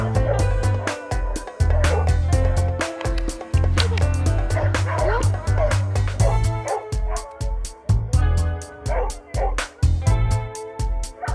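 Labrador retriever barking at an agility competition in Bulgaria, repeated loud, close barks and yips in irregular bursts over about eleven seconds, with some background talk.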